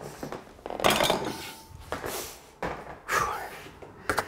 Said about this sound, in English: And it should be done with a 4x10 knife like this.